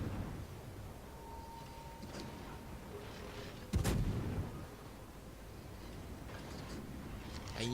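Naval gunfire from a Worcester light cruiser in World of Warships, a sharp loud blast near the middle standing out over a steady low background rumble, with fainter shots scattered around it.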